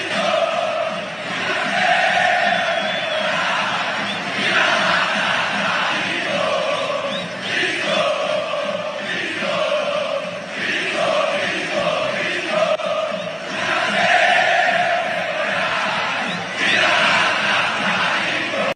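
Ceará football supporters fill a stadium with a rhythmic collective chant, with repeated surging phrases of massed voices echoing through the stands at a strong level.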